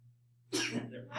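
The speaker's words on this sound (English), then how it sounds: "How many sneezes is that for?" An abrupt, forceful sneeze erupts over a low electrical hum, with a second explosive burst starting just as it ends.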